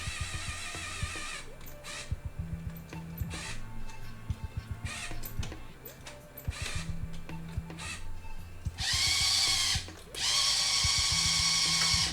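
A remote-controlled swivel motor in a Dalek prop's head whirs in repeated bursts, sounding sluggish on weak batteries, with stop-start pulses and a brighter high whine near the end, no talk.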